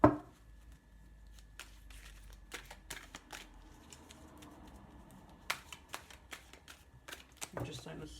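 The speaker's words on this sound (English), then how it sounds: "let's give them a good shuffle, shall we?" Oracle cards riffled and shuffled by hand up close, a run of crisp flicking bursts and soft slaps with short pauses, under faint room tone and occasional quiet speech.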